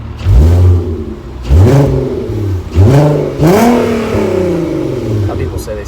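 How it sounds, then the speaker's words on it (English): Volkswagen Mk4 R32 engine revs hard several times in a row, each blip rising in a deep, growling surge before dropping back, loud and close with a steady idle between. "Some people say they sound like a pissed off Chewbacca."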